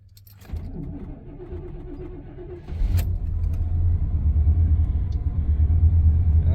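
1993 Dodge Grand Caravan LE engine cranking briefly and catching, then settling into a steady, close rumbling idle that grows slightly louder and stays even, with no talk over it.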